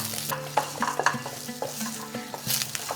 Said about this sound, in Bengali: আস্তে আস্তে আলুটা ভাজতে ভাজতে যখন বেশ লালচে কালার এসেছে, ঠিক সেই সময় তুলে নিচ্ছি